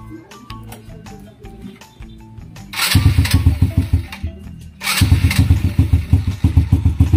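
An old Honda Wave Alpha with an electric starter fault clicks and ticks, then fires up into a loud, chugging idle, cuts out briefly, and starts again into the same rhythmic idle.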